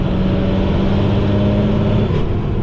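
A 12 valve diesel truck with a new turbo is floored, giving a loud, dense engine roar and a steady rising whine from the turbo spooling up.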